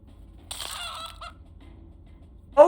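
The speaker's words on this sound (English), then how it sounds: "The chicken." Chicken clucking from the video game Infinifactory: a short burst of clucks with a brief squawk a moment later, fairly faint over a low background hum.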